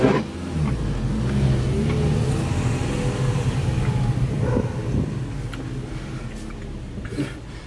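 Chevrolet Prisma 1.0 or 1.4 car fitted with a conical sport air intake, driving slowly over a speed bump: steady engine and road rumble from inside the cabin, with a few soft thumps and rattles.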